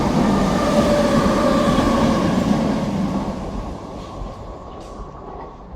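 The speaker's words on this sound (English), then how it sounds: "Waiting for the train." A train pulls into a station in the Croydon area, its steady rumble and rail noise loud at first and then gradually fading and slowing as it comes to a stop, with no one speaking.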